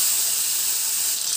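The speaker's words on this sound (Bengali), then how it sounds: "এখন ফুলকপি ভেজে নেব।" Cauliflower pieces fry in hot oil in a Bengali home kitchen, giving a steady, loud, close hiss of sizzling with no pauses and no voices.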